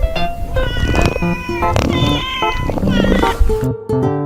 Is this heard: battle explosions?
no